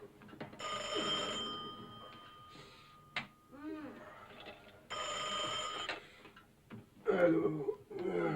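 A telephone rings in a home in two long bursts, a clear electric bell tone with strong sustained harmonics, separated by bustle and a brief sharp knock, with a voice and movement in the gaps.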